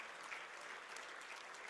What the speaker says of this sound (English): may I have a big round of applause for each and every Rotaractor who has contributed to the success of this movement